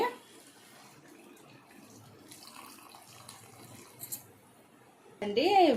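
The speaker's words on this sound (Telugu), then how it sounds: "వాటర్ వేస్తున్నానండి." After a stretch of quiet kitchen background, water suddenly pours loudly and steadily into a pan of chicken gravy for the final moment.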